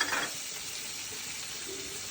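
A paste of ground mustard and poppy seeds with turmeric, coriander, cumin and a little sugar is stirred in a pan for a green tomato dish, giving a faint, continuous soft sizzle with light scraping and no talk.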